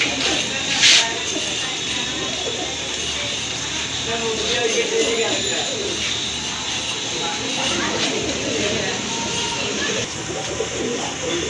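Caged pigeons coo softly at a pigeon sale, low murmuring calls that run under someone talking throughout, with a steady background hiss and one brief louder knock.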